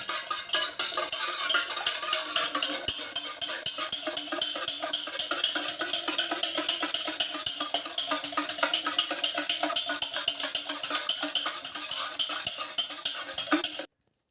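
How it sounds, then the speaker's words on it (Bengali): An egg being beaten by hand with a whisk for a sponge cake, a fast, steady rhythm of metallic clicking and tapping against the bowl, close and continuous for about fourteen seconds. "নিয়ে খুব ভালো করে একটা ডিমটাকে ফেটে নিতে হবে"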